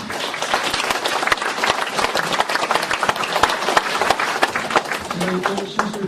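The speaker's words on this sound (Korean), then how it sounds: "시청자 여러분들 큰 박수 부탁드립니다" Audience at a philosophy and humanities forum applauding as a professor is welcomed to the podium, with dense, loud, continuous clapping from a crowd and faint murmuring near the end.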